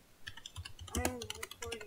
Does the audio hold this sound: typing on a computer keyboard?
yes